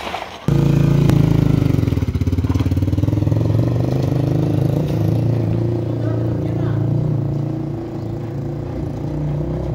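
A Vortx 200 motorcycle engine runs loud and steady up close as the clutch is let out, its low droning rumble rising slightly in pitch and then settling, with brief talk over it.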